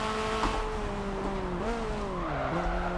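A Hyundai Veloster N pushed through a hot lap in a racing game, its engine note rising and dipping through gear shifts while tires squeal under hard cornering, loud and continuous with no talking.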